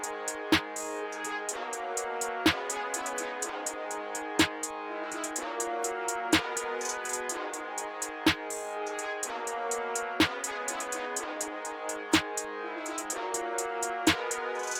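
A trap drum pattern plays with the original snare, crisp snare cracks landing on a steady beat between rapid hi-hat rolls over an orchestral melody in FL Studio, moderately quiet and without speech.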